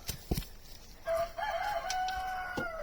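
A few short chicken clucks, then a rooster crows in a long, drawn-out call, fairly close, with no one talking.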